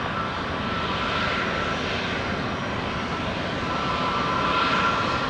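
A Transavia jet's engine roars steadily at an airport, a continuous loud whine and rush that holds level for several seconds with no voices.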